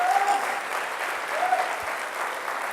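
Congregation at a Christian worship service applauding in praise, a continuous, even roar of many hands with faint voices rising within the crowd.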